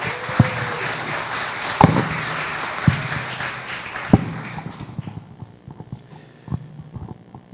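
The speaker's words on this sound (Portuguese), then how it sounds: "eu quero pedir uma salva de palmas para o nosso palestrante de hoje" An audience claps for the evening's guest lecturer at a talk on the 1932 Constitutionalist Movement. Broad, sustained applause fills the room at the start and then thins into scattered, fading claps.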